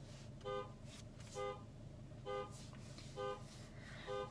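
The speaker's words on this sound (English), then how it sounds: "I don't know why he's making this truck alarm go off right now." A truck alarm goes off outside a local jail, sounding faint, evenly spaced electronic honks about once a second, five bursts over a low background hum.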